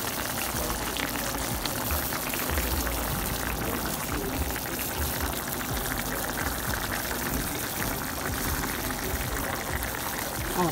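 A fish stew with green peppers simmers on the stove, a continuous close bubbling and gentle sizzle that holds steady throughout with no voices.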